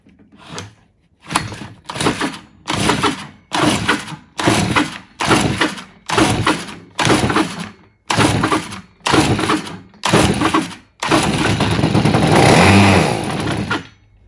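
A Stihl FS46 string trimmer with a suspect carburetor and a bad hose is pull-started, about a dozen rhythmic rope pulls with brief sputters before the small engine catches and runs steadily near the end, close and loud.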